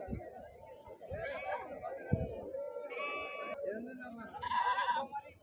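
Male goats at a weekly Saturday livestock market in Dubbaka, bleating several times at mid distance amid crowd chatter and people talking nearby.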